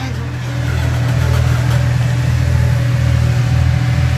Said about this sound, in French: je suis un peu désolé si on entend un tracteur